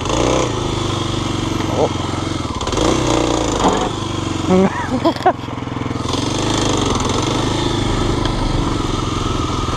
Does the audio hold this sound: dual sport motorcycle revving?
yes